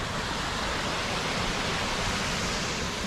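Steady broadband rush of a stream's flowing water, continuous and fairly loud, with no voices over it.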